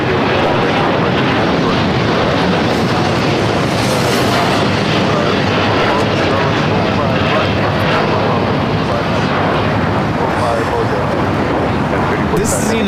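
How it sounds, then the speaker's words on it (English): United Airlines Boeing 787-9 Dreamliner taking off at LAX, a loud continuous engine roar filling the whole stretch, dense and unbroken throughout. "3045 taking off to Tokyo Narita on the 787-9 Dreamliner"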